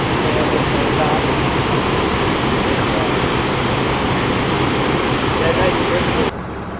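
A canal lock on a route toward Toronto fills with water in a loud, steady roaring rush that runs unbroken for several seconds before dropping off abruptly at the end.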